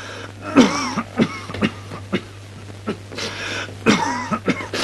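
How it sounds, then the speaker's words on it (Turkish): A man with a smoker's cough coughs in a series of harsh, close bursts, some doubled, with short pauses and throat-clearing between the fits. "Peki bu öksürük ne olan?"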